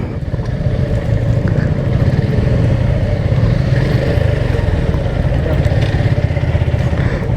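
A motorcycle engine idles steadily at close range, a continuous rumbling drone with no break as the bike is eased into a parking spot through a gate.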